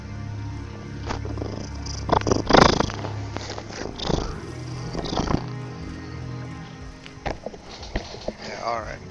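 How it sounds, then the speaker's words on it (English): A cat purring close by, a soft continuous rumble with some shuffling movement, while someone talks over it at times. "Say hello to the cat."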